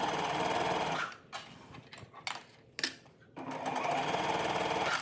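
A sewing machine stitches the double-folded side seams of a wrap skirt ruffle in a fast, steady whir, pausing for a few seconds of quiet handling in the middle and then running again.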